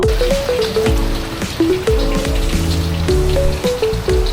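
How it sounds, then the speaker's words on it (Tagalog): Steady rain falling outside a bike shop, pattering and dripping loudly and close, with bright drip tones over a continuous wash. "inabot tayo ng ulan"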